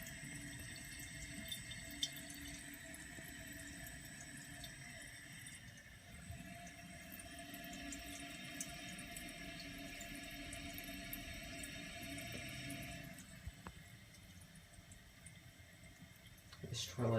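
A 2010 Kohler Wellworth Class 5 1.6 gpf toilet tank filling slowly, giving a steady low rush and trickle of water that runs on for the whole stretch, with a brief bump near the end.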